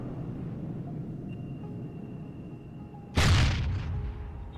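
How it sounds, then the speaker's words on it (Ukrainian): A low rumble of fire and machinery from burning military armored vehicles, then a sudden loud explosion as one detonates, slowly rolling off into a crackling decay. "На кадрах видно, як горить і вибухає техніка окупантів."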